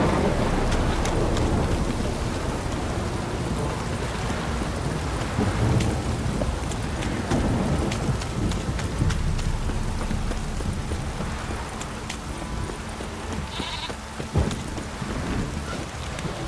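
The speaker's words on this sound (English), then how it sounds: "This downpour's a bastard, it is." Heavy rain pours down steadily in The Witcher 3: Wild Hunt while thunder rolls and rumbles, loud and close at the start and then easing, with a sharp crack near the end.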